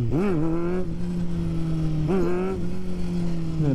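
A car engine runs loud and close throughout, its pitch rising and dipping twice as it pulls through a right-before-left intersection without yielding, steady droning between the surges.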